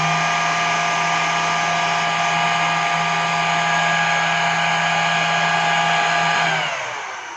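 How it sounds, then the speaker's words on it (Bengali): An Arduino-controlled BLDC fan runs with a loud, steady, high-pitched motor whine and airflow hiss, holding constant before winding down at the end. "ফ্যানের স্পিডকে যদি আমি বাড়াতে থাকি"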